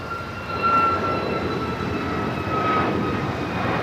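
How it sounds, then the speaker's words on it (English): A United Airlines Boeing 737 MAX 8 taking off at LAX, a steady loud engine roar with a faint high whine, sustained and fairly near throughout. "This is United Airlines 2650 taking off to Tampa on the MAX 8"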